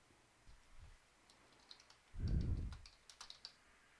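Soft, scattered keyboard taps and clicks, close and quiet, with a brief louder low thump in the middle.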